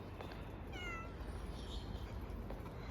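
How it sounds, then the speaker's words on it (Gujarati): A cat at a spot where many cats gather gives a couple of soft, thin meows over a quiet background hum. The meows are faint and fairly close, with no talking. "અહીંયા તો હરેક જગ્યાએ બિલાડીઓ જોવાની મળે છે."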